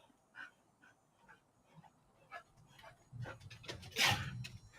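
A dog whimpers and whines indoors in faint, short high-pitched bursts spread over several seconds, ending in a louder rustling movement nearby.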